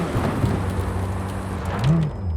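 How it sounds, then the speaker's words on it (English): Heavy thunderstorm in Cyberpunk 2077, with steady loud rain hissing on surfaces and a deep rolling rumble of thunder underneath, continuous and close throughout. "That is one hell of a storm!"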